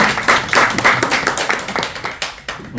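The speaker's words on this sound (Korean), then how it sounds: "박수 많이 주세요." Audience at a Korean lecture on construction safety exam success claps for a guest, a burst of dense hand clapping that thins into scattered claps, fairly close and lively.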